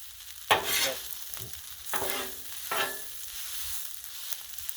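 Chicken fried rice is stirred on a hot griddle, with three distinct scraping spatula strokes over a soft continuous sizzle and no talking.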